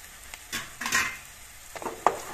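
Onions and spices are stirred as they fry in a pressure cooker, with a few soft scrapes and clinks of a spoon over a faint sizzle in a quiet kitchen.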